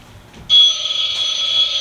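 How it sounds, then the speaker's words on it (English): A telephone prop in a DIY haunted garage starts ringing abruptly, a loud continuous electronic trill that holds steady with no talk over it. "Got our phone ringing."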